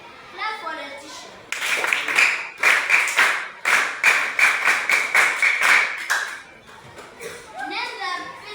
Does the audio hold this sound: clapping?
yes